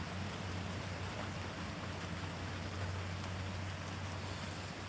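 Heavy rain pouring down outdoors, a dense, even hiss of water that runs steadily throughout, with a low hum beneath it and no talking.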